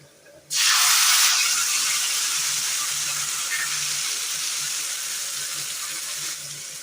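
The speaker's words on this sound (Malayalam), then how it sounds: "ഇതിലേക്ക് നമ്മൾ അരച്ചു കൊണ്ടുവന്ന തക്കാളിയുടെ അരപ്പ് ചേർത്ത് കൊടുക്കാം." Ground tomato paste goes into sizzling curry spices in a pan for a Kerala curry, setting off a sudden loud, steady hiss that slowly fades while it keeps frying.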